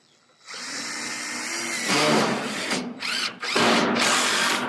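A power drill drives roofing screws into a chicken coop roof, its motor whining up loudly after a quiet start and cutting out briefly a few times before revving again.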